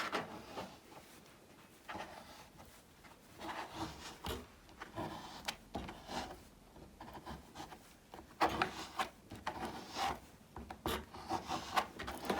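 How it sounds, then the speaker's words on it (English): A card scrapes across a painted rock surface in irregular rasping, scratchy strokes, close and fairly quiet, with brief pauses between the passes. "Just scraping with the card"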